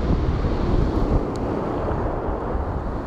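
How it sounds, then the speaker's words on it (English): Wind at sea, about 7 knots, blows in a steady, loud roar across the microphone, with a broad rushing texture that may include surf beneath it. No one speaks. "Right, wind in the face, 7 knots."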